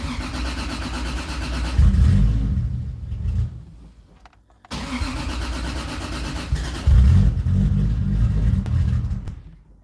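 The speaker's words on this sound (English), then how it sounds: "So if I try to start the Supra, it'll start and die, start and die, start and die" A cold Toyota Supra engine cranks, catches with a loud rumble, then dies away into near silence before cranking and firing up again, close and loud with no talk.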